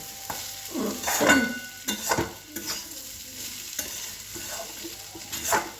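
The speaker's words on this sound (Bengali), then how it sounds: "আর এখানে আমি আলু ভাজছি" Potato pieces sizzle steadily in a frying pan as a snack is cooked, with repeated scraping stirs and clatters of a utensil against the pan close by, and no voices.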